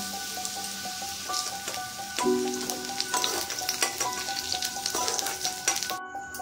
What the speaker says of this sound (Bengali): এই জন্য আলু আর পেঁপেটাকে লাল করে ভেজে নিচ্ছি